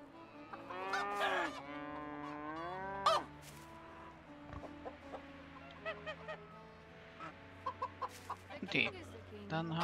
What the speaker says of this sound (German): Das ist aber eine kranke Kuh.